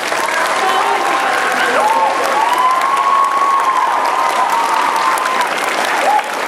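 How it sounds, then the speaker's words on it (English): Loud, sustained audience applause at an elementary school sixth-grade presentation assembly, a steady wash of clapping with faint voices and whistle-like tones underneath. "maybe one more round of applause"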